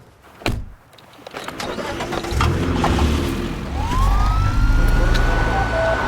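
A British air ambulance crew's rapid response car heads out to an emergency call near a primary school, siren wailing in a rising sweep over steady engine and road noise, close and loud throughout.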